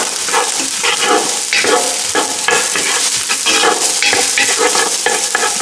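Onions sizzle and crackle in a hot pan for chicken fajitas, a loud, dense, continuous frying hiss with stirring scrapes mixed in, close up and steady throughout.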